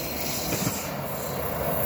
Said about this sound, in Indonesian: setiap kereta yang melintas jembatan ini akan terdengar suara gemuruh yang lumayan menyeramkan